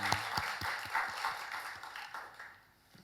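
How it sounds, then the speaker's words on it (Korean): A church congregation claps together, rhythmic and fairly close, the applause gradually thinning and fading out toward the end. "우리 살아계신 하나님께 영광의 박수 올려드리겠습니다"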